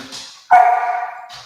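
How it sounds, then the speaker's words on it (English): A dog gives one loud, drawn-out bark or yelp near the microphone, with fainter whimpering sounds before and after. "All right, Khan, there's my dog. He's not happy"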